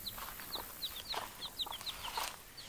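Soft clucking and chirping from a bantam hen and her peeping chicks, a series of short high calls repeating close by.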